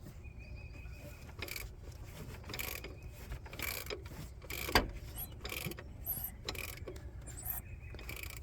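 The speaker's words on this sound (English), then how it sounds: "Sounds like the compression stroke." Engine turned over by hand to find top dead center with the spark plug removed, giving faint ratcheting clicks and mechanical creaks in an irregular rhythm, close and quiet.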